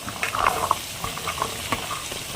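Beans, capsicum and peas fry in a pan with a soft, steady sizzle, and a few stirring scrapes and crackles break through. It is close and moderately quiet, with no one speaking.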